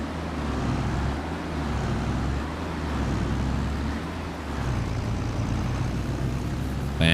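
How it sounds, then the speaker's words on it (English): A vehicle's engine rumbles low and steady as it reverses toward grain bins in Farming Simulator 22, a continuous close drone that swells and dips slightly throughout. "Back it on up to the grain bins."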